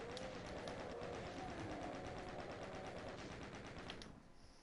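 Rapid gunfire in DOOM II aimed at a floating flaming-skull lost soul, a fast steady rattle of shots repeating for several seconds before cutting off, fairly faint overall.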